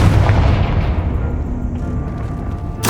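A Confringo explosion spell goes off in Hogwarts Legacy, a loud, close, rumbling boom that decays over about three seconds before a short sharp burst at the end.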